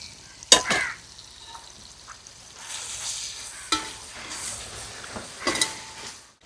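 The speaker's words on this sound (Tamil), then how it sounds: "அதையும் எண்ணெயில் விட்டு வதக்கிக்கணும்" Crushed cumin and pepper frying in oil, with sharp clinks and scrapes standing out over a soft sizzle, spaced across the clip as the spices are stirred.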